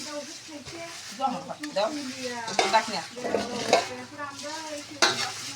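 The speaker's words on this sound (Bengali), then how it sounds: "এখন আলু ভেজে নিচ্ছি" Potatoes frying in oil in a pan while being stirred, a steady sizzle broken by repeated scraping and clinking of the spoon against the pan, close and moderately loud, with no talk.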